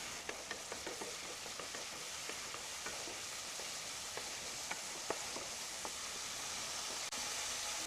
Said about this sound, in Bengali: বন্ধুরা মশলাটা কষা হচ্ছে, ওর মধ্যে দিয়ে দিচ্ছি ভেজে রাখা আলুগুলো